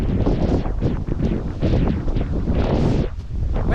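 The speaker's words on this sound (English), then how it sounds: "now it's cloudy and windy" Gusty wind buffets the microphone on a cloudy hiking trail, loud rumbling roars surging and easing in uneven waves, with a hiss of air over the top and no other sounds.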